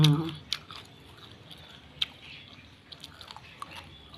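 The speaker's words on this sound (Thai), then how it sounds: "ฟังเสียงนะคะ กรอบมากอร่อยมาก" Crunchy food being bitten and chewed right up close, giving loud, sharp crunches followed by softer chewing. A few crisp snaps punctuate the short stretch, with faint murmuring underneath.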